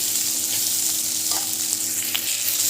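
Food frying in a pan with a steady hiss and crackle, while a utensil stirs and scrapes through it in a few soft strokes, close and continuous.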